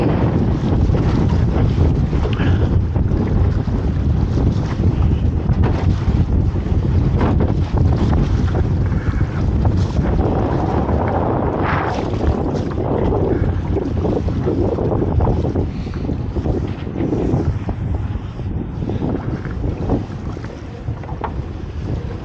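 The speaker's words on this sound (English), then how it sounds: "It's an offshore, that's why it's fairly flat, but still very windy." Strong offshore wind buffets the microphone aboard a small boat at sea on a crab pot lifting trip, a loud continuous roar with gusty surges throughout and no talking.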